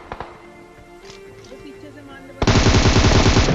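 Rapid automatic gunfire in a battle royale shooter fight on a bridge, bursting in loud and dense after a quieter stretch of sparse shots and ambient noise, with a player talking over the action.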